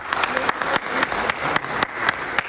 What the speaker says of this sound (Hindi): एक बार जोरदार तालियां भी इनके लिए बजा दीजिए।